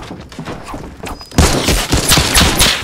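Gunfire in Fortnite starts as a softer run of shots, then bursts into loud, rapid volleys of rifle fire that stay close and dominant until the end.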